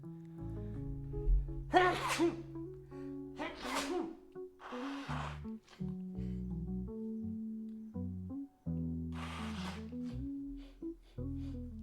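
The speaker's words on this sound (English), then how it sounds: "Oh, I'm going to sneeze." A sneeze bursts out over a steady musical background, with a couple of sharp breathy bursts and a later one near the end.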